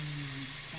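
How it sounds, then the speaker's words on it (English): Shrimp and chicken frying in a pan give a steady, close sizzle that runs unbroken through a short moment, with a faint low hum underneath and no talking. "Don't that sizzle sound good?"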